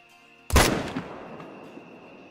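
A single sharp rifle shot cracks out in a hunting video game, fired at a large fallow deer through a thermal scope, then rolls away in a long fading echo.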